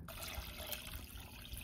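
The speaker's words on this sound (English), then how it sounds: "Add a little bit of water." Water pouring from a container into the small reservoir of a portable steam sauna tent's generator, a steady close splash with no one speaking.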